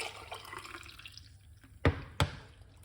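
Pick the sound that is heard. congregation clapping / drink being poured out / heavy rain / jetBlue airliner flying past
drink being poured out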